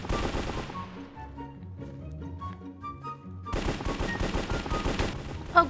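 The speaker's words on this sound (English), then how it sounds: "Oh gosh, I got shot from behind." Gunfire in Minecraft: a dense, rapid burst of shots in the opening second, then a quieter stretch of tonal game sounds, then another long stretch of loud, rapid automatic fire.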